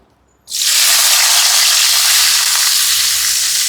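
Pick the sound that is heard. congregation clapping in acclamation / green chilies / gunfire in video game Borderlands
green chilies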